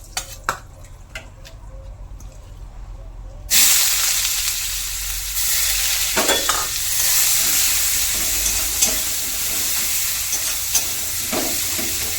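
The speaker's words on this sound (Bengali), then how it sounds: "আর এদিকে রেহানের পাপা কেটে দিল বেগুন এগুলো ভাজা করব" Loud, steady sizzling of brinjal and chilli frying in hot fish oil, jumping up after a quieter start, with occasional stirring clatter.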